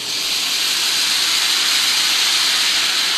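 Wine poured into a hot pan during home cooking gives a steady, loud, broadband sizzle with a strong hiss that holds evenly throughout, with no talking.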